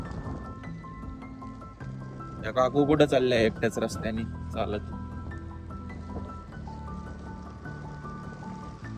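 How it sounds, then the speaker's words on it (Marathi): Shallow stream gently flowing beside a trekking route to a twin waterfall near Lavasa, a soft trickling and dripping that stays in the background while people talk over it. "आणि हे असं मस्त असं वाहणारं झुळझुळ पाणी."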